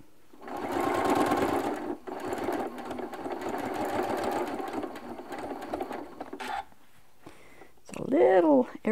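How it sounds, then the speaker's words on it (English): A sewing machine stitches two quilt binding strips together, running in a steady rapid whir for several seconds with brief pauses, then stopping as a voice speaks near the end. "just sewing these two binding strips together, binding edges really."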